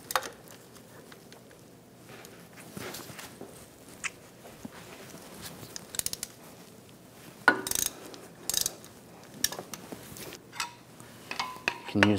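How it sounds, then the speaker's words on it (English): Hand ratchet working loose the axle bolts on a 2010-2014 Volkswagen GTI during front CV axle replacement, heard as scattered clicks and metallic clanks with a few louder bursts near the end, no talk. "I'm going to loosen up one of these bolts."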